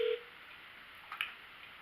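Telephone dialing tones as a call is placed: a short steady tone at the start, then a couple of brief electronic beeps over a faint hiss, with no one talking.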